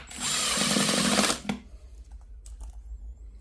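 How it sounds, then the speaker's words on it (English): A cordless power drill drives screws into pre-drilled holes, giving one loud close whirring burst of just over a second that cuts off sharply, followed by quiet handling clicks. "So now that we have our holes pre-drilled, we just go ahead and put our screws in."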